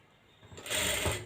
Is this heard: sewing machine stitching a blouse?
yes